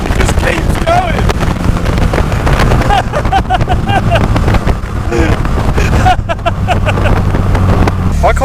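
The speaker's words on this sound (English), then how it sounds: "how fast this car actually is when you rev it out" A hybrid turbo Mazda MX-5 roadster accelerates hard, its engine roar heard from inside the car, loud and continuous with wind rush and rising pitch sweeps between shifts.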